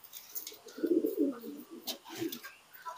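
Soft cooing from a Lahore pigeon, a few low murmuring coos rising and falling close by, with faint chirps and light background noise around them.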